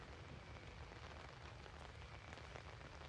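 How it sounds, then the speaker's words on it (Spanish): Steady rain pours down in a dense, even hiss, with a low rumble of thunder underneath. "De paso está lloviendo y tronando."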